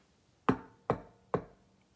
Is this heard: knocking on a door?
yes